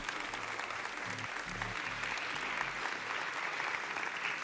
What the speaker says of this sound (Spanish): un aplauso para ella a Nadak Reales